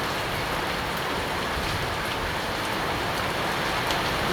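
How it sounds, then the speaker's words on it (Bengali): Steady morning rain on a hot summer day falls in a dense, even hiss of drops on surfaces, continuous and fairly loud with no voices. "বৃষ্টি নামছে সকাল 7টা বাজে, এখন বৃষ্টি নামছে"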